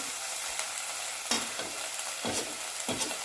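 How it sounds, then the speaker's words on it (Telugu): Turmeric being stirred into ginger garlic paste frying in a pan for a flat bean and brinjal curry: several distinct scraping stirs of a spoon over a continuous close sizzle, with no talk. "ఇప్పుడు ఇందులో పసుపు వేసుకొని కలుపుకోవాలి."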